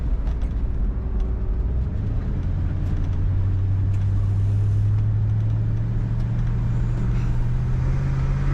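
A 1968 Oldsmobile 442 convertible accelerates hard, its engine a loud, steady roar that climbs in pitch over several seconds, heard close up from inside the car with no talking.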